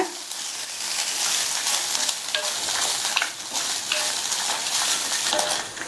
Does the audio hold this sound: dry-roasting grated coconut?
yes